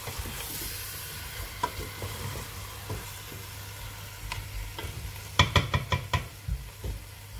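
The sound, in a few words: stirring red tomatoes into harira soup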